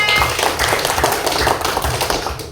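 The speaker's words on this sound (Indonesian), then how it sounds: "Baik, tepuk tangan." A classroom of pupils clapping hands in a religious studies lesson, a short burst of uneven, rhythmic claps close by, with no talk over it.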